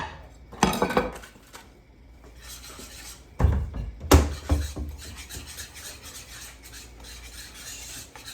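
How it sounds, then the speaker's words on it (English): Butternut squash pasta sauce with cheese, prosciutto and brown butter sage being stirred in a pan: a few loud clanks of the utensil against the pan, then continuous close scraping and stirring. "So, stir everything together. Melt that cheese."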